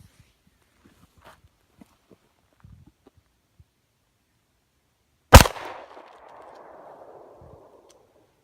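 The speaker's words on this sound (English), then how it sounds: "we're gonna load up the CZ again, take some shots" A CZ P-01 Omega pistol fires a single double-action shot at an outdoor range. The sharp, loud crack is followed by a few seconds of ringing echo, and there is faint shuffling before it.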